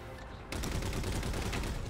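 Rapid gunfire from the video game Halo 4 sounds as a dense, continuous burst that starts abruptly and keeps going at steady loudness, with no talk over it.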